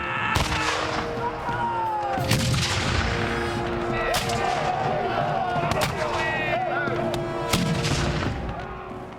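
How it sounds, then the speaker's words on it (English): Battlefield artillery guns fire in a series of booming reports scattered over several seconds, mixed with crackling gunfire and a steady noisy background of combat. "The government artillery fired back, and the battle was begun."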